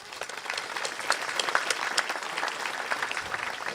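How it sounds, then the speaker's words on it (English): A high school graduation audience applauds CTE program students, a lively burst of many hands clapping with distinct sharp claps standing out, steady for several seconds without talk. "thank you for giving them a round of applause"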